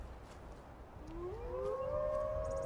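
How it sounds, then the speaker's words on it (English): Wolves howl in a long, rising wail that swells and holds, with overlapping voices over a low, steady rumble of background ambience. "You might have some wolves coming around. She can hear them."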